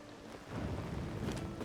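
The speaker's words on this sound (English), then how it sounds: "It's lightning striking" Thunder from a lightning strike in Tears of the Kingdom, a low broad rumble rising after a quiet start and rolling on steadily, fairly soft and heard alone.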